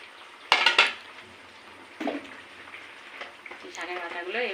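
Bottle gourd leaves dropping into a cooking pan with a couple of sharp metallic clanks and scraping of a utensil, followed by soft stirring and a faint sizzle as someone talks nearby.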